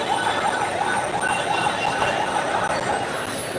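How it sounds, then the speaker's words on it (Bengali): An ambulance siren wails faintly and steadily through a dense, crowded roadblock where vehicle traffic is barred, buried under constant street and crowd noise. "এই যে দেখুন এই অ্যাম্বুলেন্সটাকে ওরা কিন্তু সাইড দিচ্ছে অ্যাম্বুলেন্স কিন্তু চলে যাচ্ছে"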